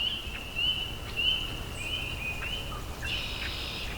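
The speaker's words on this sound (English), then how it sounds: "There's a red-winged blackbird." A red-winged blackbird calls repeatedly in short, sharp bursts over a steady background of spring peepers, with one brighter, longer trill near the end, beside a canal.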